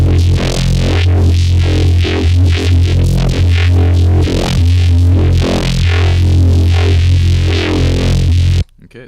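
An FM-modulated neuro bass sample played from Ableton Live's Sampler, a dense, loud, gritty bass texture sustained for about nine seconds with shifting movement before it cuts off abruptly near the end.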